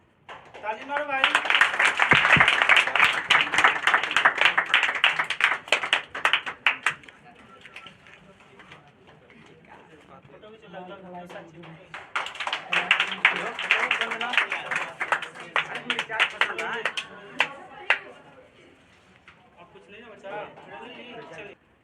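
Audience at a district board toppers' award ceremony breaks into loud, dense clapping twice, a long burst early and another swell midway, fading to scattered claps, with someone talking between and over the rounds.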